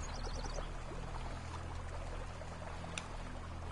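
Flowing water in the game Elex, a quiet steady pour and trickle with faint splashy detail and a low hum beneath, continuous and soft, with no voices.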